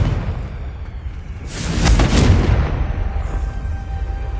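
A Confringo blasting spell goes off in Hogwarts Legacy, a single broad whooshing burst that swells to a loud rumbling peak and then fades back into a low ambient hum.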